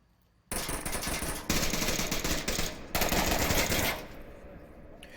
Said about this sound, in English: A lot of pre-fire going out.